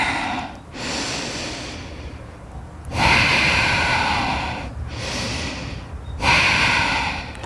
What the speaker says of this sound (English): listening to the sound of the breath.